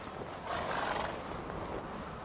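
Roach, Geralt's horse in the video game The Witcher 3, lets out a drawn-out neigh with faint hoof clip-clop under a wash of game ambience, fairly close and alone without speech.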